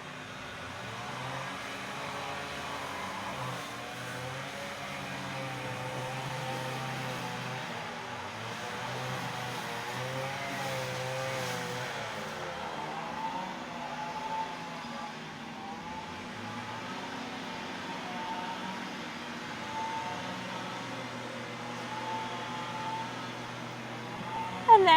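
Lawn mowers drone steadily in the background, a low continuous engine hum that wavers slightly in pitch throughout without pausing.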